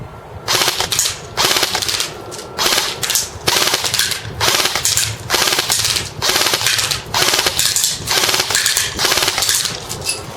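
An airsoft SR12 rifle, a longer M4 variant with a tightbore barrel and an 11.1 volt LiPo battery, fires several sustained full-auto bursts with only brief pauses, loud, close and rapid, with no talking.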